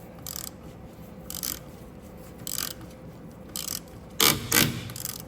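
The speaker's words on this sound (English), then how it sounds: "All right, I got my bigger ratchet." A large ratchet works loose the rusty front brake bolts on an Audi A5 (2007–2016), giving about six short bursts of close, loud clicking separated by pauses, with the last two bursts the strongest.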